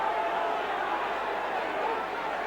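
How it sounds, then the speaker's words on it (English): Steady, dense roar of a football stadium crowd at a Sheffield Wednesday versus Arsenal match, a continuous broad wash of distant voices without distinct words, heard from a high commentary position above the stands. "the crowd are getting pretty noisy down below"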